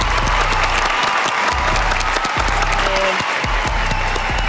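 Loud audience applause at a competition final, steady dense clapping throughout with a faint crowd murmur underneath and no talk over it.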